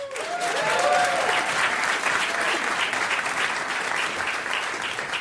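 A studio audience at a radio quiz show breaks into steady, dense applause for a newly introduced contestant, sustained and even throughout with a brief voice near the start.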